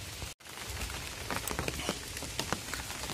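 Steady rain pours down over a Manipuri village settlement after a long hot spell, a dense, continuous hiss with scattered sharper drops pattering on surfaces, close and fairly loud, broken by one brief dropout near the start, with no voices.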